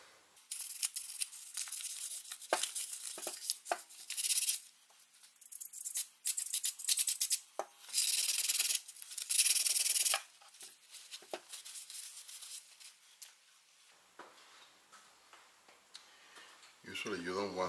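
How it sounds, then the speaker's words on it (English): Cleaning work on the front wheel hub of a 2015 Porsche Macan S before a new bearing is pressed in: close, irregular scraping, rustling and ticking, with several louder hissing bursts like spraying, then a low thump near the end. "but I'm going to clean the hub first."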